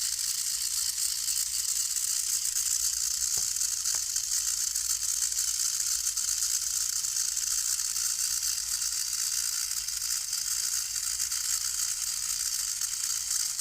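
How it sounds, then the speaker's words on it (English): A small DC motor spins under computer speed control, giving a steady, high-pitched whirring and ratcheting hum throughout, with two brief clicks early on. "right now you can see the motor is actually rotating at certain speed."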